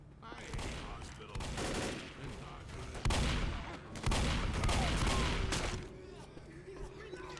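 Shotgun blasts in the video game Left 4 Dead, a run of loud booming shots with heavy rumbling tails following one another in quick succession, dense and close.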